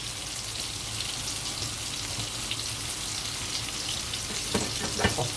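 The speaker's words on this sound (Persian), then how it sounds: "اون صدای جیلیز بیلیزی هم که میشنوید دارم در کنارش گوجه سرخ میکنم." Tomatoes frying in a grill pan beside pan-cooked kebab, a steady close hiss and sizzle with scattered crackles and pops, a few sharper spatters toward the end.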